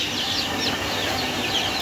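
Chickens cluck softly in scattered, overlapping calls at moderate distance over a steady background hiss.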